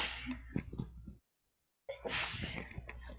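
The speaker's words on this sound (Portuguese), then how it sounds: "Deixa eu espirrar aqui" One sneeze, close and fairly loud: a breathy intake, a brief silence, then a forceful burst that trails off in breath.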